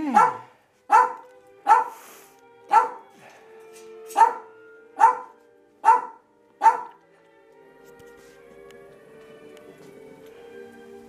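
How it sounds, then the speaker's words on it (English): Puppies bark in a run of eight evenly spaced, sharp yaps close to the microphone, then fall silent, leaving a faint hum and a few soft whimpers. "See all the little puppies now."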